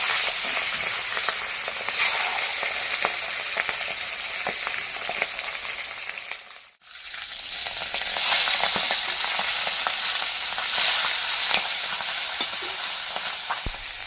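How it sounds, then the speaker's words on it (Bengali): Taro heads frying in hot oil give a dense, continuous close-up sizzle with crackling pops. The sound briefly drops out midway before resuming at full strength. "মাথাগুলো ভেজে দেয়"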